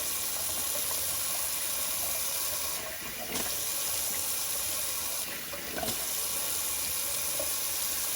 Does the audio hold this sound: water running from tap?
yes